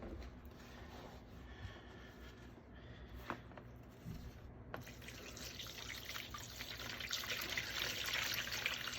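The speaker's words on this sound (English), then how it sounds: "now we'll slowly pour it into the chamber" Soapy water poured slowly into a soaking chamber for a golden age comic book, a faint trickle and splash building gradually over quiet mechanical clicks and a low steady hum.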